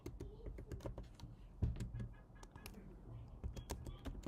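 Computer keyboard typed on quickly up close, a dense run of sharp clicks with one heavier keystroke standing out, like the enter key, and brief pauses between bursts.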